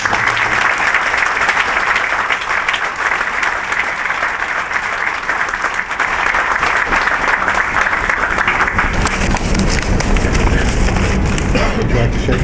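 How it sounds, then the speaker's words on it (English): Audience applause for the New York State Police fills the room, a steady dense clapping that carries through the whole stretch and swells louder near the end, with crowd noise mixed in. "let's give them a round of applause"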